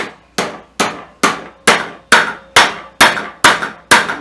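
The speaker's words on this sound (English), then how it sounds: "and then I'm just going to hammer" Nine evenly spaced hammer blows, each a sharp impact with a ringing decay, as a wheel is hammered onto the axle of a 22.5-inch Weber kettle grill with plastic-housed nuts; close and loud, with no talk.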